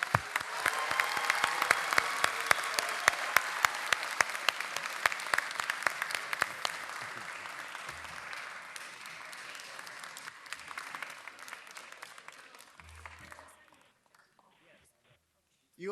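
Applause from a city council meeting audience after projects are approved, dense clapping that thins into scattered claps, fades to near silence near the end, with murmuring voices.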